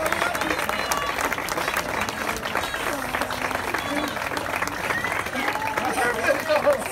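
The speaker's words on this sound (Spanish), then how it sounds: "¡Fuerte el aplauso!" Sustained audience applause and crowd noise for the winners of the street performance circuit at a Cosquín 2022 festival stage, steady dense clapping filling the whole stretch with a few louder bursts near the end.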